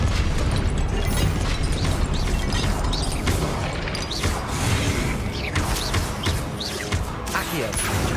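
A Confringo blasting spell explodes in Hogwarts Legacy amid a dense, loud stream of game combat noise, with repeated bursts, crashes and booms layered over continuous rumble and effects.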